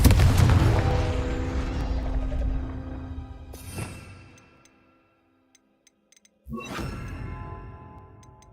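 A Confringo fire spell in Hogwarts Legacy bursts into a loud explosion that rumbles and decays over a few seconds, followed by a brief near-silence with faint ticks, then a second sharp blast that tails off.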